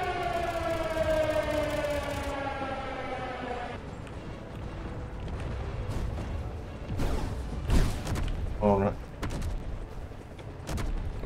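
A wailing siren in the video game Space Engineers sweeps in rising and falling tones for several seconds, then gives way to sharp bangs and clatter.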